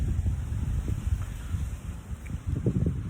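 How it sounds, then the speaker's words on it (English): Loud wind blowing outdoors, a steady low rumbling buffet against the microphone that rises and falls in gusts, with no voices. "Like a very loud wind here."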